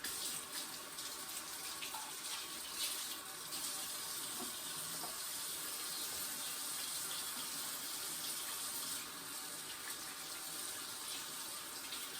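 A kitchen tap runs steadily into a sink during washing up, a continuous rushing hiss at moderate volume with faint clinks and no speech.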